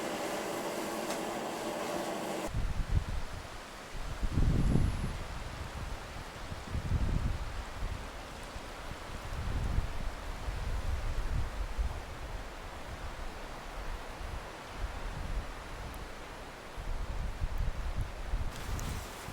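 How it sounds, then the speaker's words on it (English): Wind gusts outside Bob Scott's Bothy, a mountain shelter, in snowy conditions: a muffled, rushing roar that swells and eases in irregular surges, with no voices. "It's a bit windy outside."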